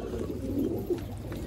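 Male pigeons kept in a breeding setup give soft, low coos close by over a steady background murmur, with no speech.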